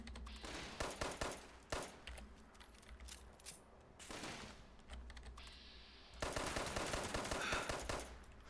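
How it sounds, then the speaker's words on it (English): Video game gunfire aimed at the player crackles in rapid bursts of clattering shots, with dense automatic volleys starting and stopping and a louder sustained stretch toward the end. "Are there two of them shooting at me now?"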